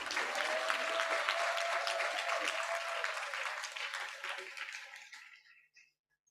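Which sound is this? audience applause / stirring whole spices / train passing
audience applause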